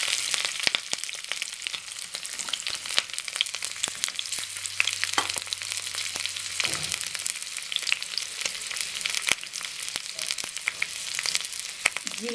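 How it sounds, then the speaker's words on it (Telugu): Chopped green chillies and onions sizzle and crackle steadily in hot oil in a pan, a loud continuous fry with scattered pops and occasional stirring, no voices. "ఆయిల్ కాస్త వేడయ్యాక తరిగిన పచ్చిమిర్చి,"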